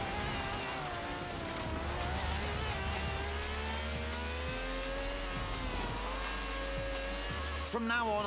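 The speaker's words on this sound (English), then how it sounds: "This is a V12 with over 750 horsepower, plus bucket seats." A 750-horsepower V12 car in Forza Horizon 4 drones steadily while its tires squeal in long sustained skids, with a low rumbling engine underneath and a brief sharp burst near the end.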